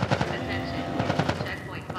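Gunfire in The Last of Us Part I during a firefight with Fireflies: rapid, overlapping shots and bursts over a loud, busy battle bed, with shouted voices mixed in.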